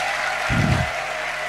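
Congregation applauding God during a Kinyarwanda church sermon: a steady wash of clapping runs throughout, with a brief, heavier low thump swelling midway.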